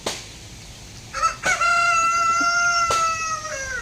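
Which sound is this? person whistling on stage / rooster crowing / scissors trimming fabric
rooster crowing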